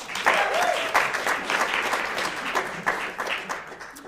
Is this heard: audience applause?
yes